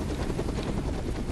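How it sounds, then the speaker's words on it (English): A helicopter in the Fortnite video game whirs steadily and loudly with a continuous rotor drone, close by and alone with no talking over it. "there's another helicopter here"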